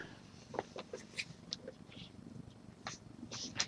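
A house cat makes a few faint, scattered sounds, soft mews or chirps, against a quiet indoor room hum, with no clear talking.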